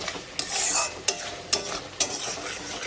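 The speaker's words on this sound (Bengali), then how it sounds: "আদা, রসুন, কাঁচা লঙ্কাটা দিয়েও আমি খুব ভালো করে কষাতে থাকবো" Ginger, garlic and green chili paste is stir-fried in a pan for a fish curry, with soft sizzling broken by four sharp, evenly spaced scrapes of a spatula, close up.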